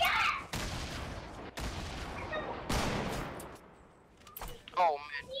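Gunfire in the video game Fortnite, with several sharp, loud shots and bursts spaced across the stretch, followed by softer game effects near the end and some player chatter.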